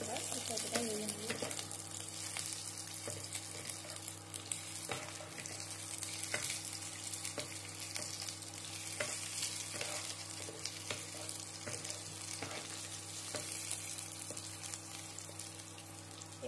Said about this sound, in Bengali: ক্যাপসিকামটা হালকা ভেজে নেব, এর কাঁচা গন্ধটা চলে যাওয়ার জন্য যতটা ভাজা দরকার ততটাই ভেজে নেব